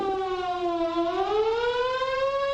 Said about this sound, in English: What if a warning siren sounds?